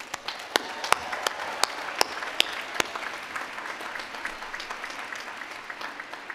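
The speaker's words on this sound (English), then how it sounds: "I hope you'll give them a round of applause." Graduation ceremony audience applauding outdoors, a dense wash of clapping from a large crowd with a few sharp nearby claps standing out, steady and fairly distant, with no voices over it.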